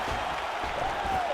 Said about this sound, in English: you hear the crowd react every time they come together because they understand the power that these guys are striking with